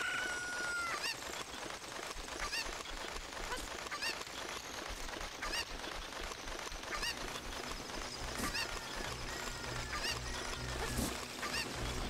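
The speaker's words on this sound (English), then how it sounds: "Come here, chicken." Cuccos in Zelda: Ocarina of Time cluck and squawk repeatedly over a dense, busy game soundtrack, with sharp chicken-like calls recurring throughout.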